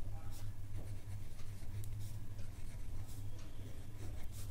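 A pen writes out a geometry solution for a circle-sector perimeter problem in a Class 10 maths lesson, giving a steady, faint scratching close by while a teacher talks over it.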